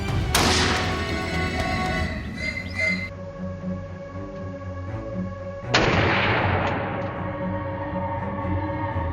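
A rifle fires while hunting wild boar, with two sharp, loud reports a few seconds apart, each followed by a long rolling echo that fades slowly.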